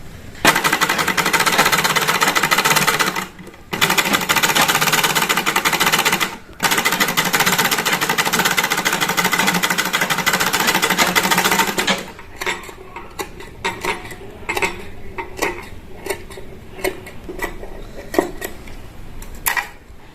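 A sewing machine stitches piping onto the neck of a small girl's kurti with a loud, continuous motor buzz that breaks off twice. It ends in a run of short, separate stitching bursts.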